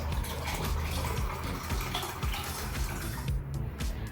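Water from a tap pouring into a container as it is measured out for a front-load washing machine, a steady close splashing gush running without break, with no talk over it.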